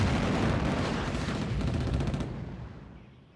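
Bombardment and artillery fire from the 1958 Communist Chinese air raid on Kinmen (Jinmen), a dense, roaring barrage of rumbling blasts and crackling shots that fades away toward the end, with no speech.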